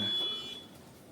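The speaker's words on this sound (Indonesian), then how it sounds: "Dia akan berbunyi seperti tadi di alarm" An IoT device sounds its alarm buzzer during a university project demo, a steady high-pitched electronic tone that holds and then fades within about a second, with faint room noise behind it.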